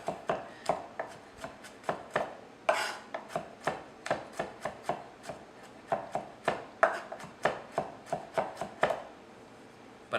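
A knife minces garlic on a cutting board for linguine, a steady run of about two dozen crisp, close chops in an uneven rhythm with short pauses, loud and alone with no talking.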